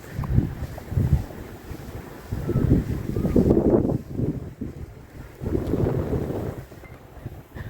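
Gusts of wind buffet the microphone in uneven bursts, rising and falling outdoors by a lake, with quieter lulls between the stronger rumbling blasts.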